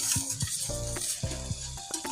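Spice paste for coriander fish sizzles steadily in hot oil as it fries, with soft scraping stirs and a few faint clinks of a utensil against the pan, all close and unbroken.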